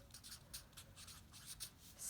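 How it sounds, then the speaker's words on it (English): A math problem is written out with a short run of soft, scratchy strokes close by, each a brief rhythmic rasp over quiet room tone, with no talking. "And I'm going to write my problem."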